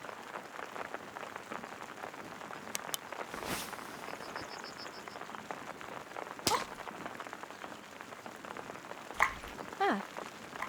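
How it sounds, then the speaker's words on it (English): Rain patters steadily on a tent, a soft dense hiss of drops with occasional louder taps and rustles close by, continuing without talk. "So cozy to be in a tent when it rains,"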